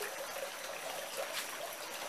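Water trickling steadily over a rock beside a small waterfall outdoors before a hurricane, a continuous fine, hissing flow with no clear breaks, fairly quiet and close.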